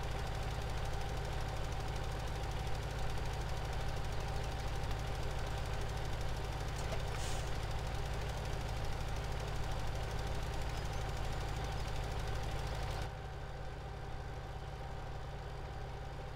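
A Case tractor engine runs at a steady idle nearby, a continuous low rumbling hum that drops noticeably in level near the end, with no talking.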